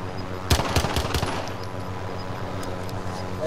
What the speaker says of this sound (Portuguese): É eu que tô atirando.